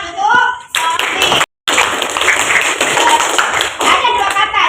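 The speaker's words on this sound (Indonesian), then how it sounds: "Ayo tepuk tangan untuk Sofi." Children applauding together in a classroom during a lesson on prayer and remembrance, a dense burst of handclaps that pauses briefly, then resumes steadily, mixed with a teacher's voice and some chatter.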